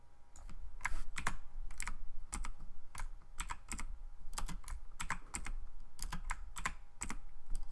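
Rapid, steady clicking of keys on a computer keyboard, with bursts of keystrokes running continuously at close range and no voices.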